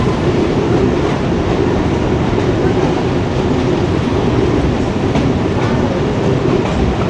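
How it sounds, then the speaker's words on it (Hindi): A Kohat Express passenger train rolls steadily on the line between Rawalpindi and Kohat as the driver applies the brakes, giving a loud, continuous rumble with dense wheel and track noise and no talking. "ब्रेक्स अप्लाइड कर दिए वैसे ड्राइवर साहब ने"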